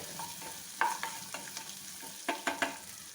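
Chopped onions fried in a pan for a masala dosa filling, a soft steady sizzle under repeated scraping and stirring strokes, fairly close with no talk.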